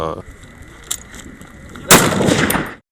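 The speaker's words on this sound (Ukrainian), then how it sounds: "Поряд стріляють з снайперської гвинтівки." A sharp sniper rifle shot cracks loudly and rolls into an echoing boom, after a fainter earlier report, outdoors at a shooting training session with distant ambience.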